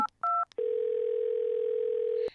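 A telephone dial tone sounds in a children's toy-figure adventure as a call to the police is placed: a few short keypad beeps, then a long steady tone that holds for almost two seconds before cutting off.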